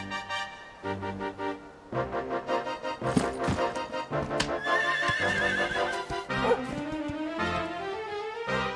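Horses in the video game Dragon Quest XI whinny and neigh repeatedly in shrill, wavering calls, with hoof clatter and other animal noises mixed in throughout.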